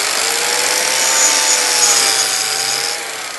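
Power tool spinning at about 12,000 rpm, similar to a wood router, cutting into a piece of wood for a handmade crate; a steady, loud, continuous whine runs close by and drops off near the end.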